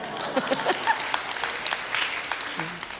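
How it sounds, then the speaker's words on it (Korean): A church congregation applauds during a sermon, brisk scattered clapping at moderate loudness, with a few voices calling out over it. "박수 좀 주세요"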